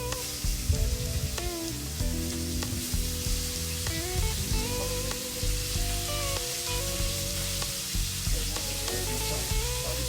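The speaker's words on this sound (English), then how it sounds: "I put butter in the pan just for that richness of the flavour, but also I put a bit of olive oil in it" Steak sears in a pan of butter and olive oil, giving a steady, loud, crackling sizzle that continues for the whole stretch with no voices.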